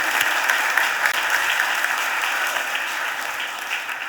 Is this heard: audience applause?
yes